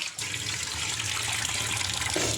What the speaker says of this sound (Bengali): চালে জল দিয়ে দিলাম